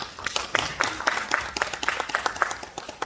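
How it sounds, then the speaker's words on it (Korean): A small audience at a public policy forum claps, uneven individual hand claps forming modest applause that rises and falls over a few seconds, fairly close. "박수 한번 주십시오"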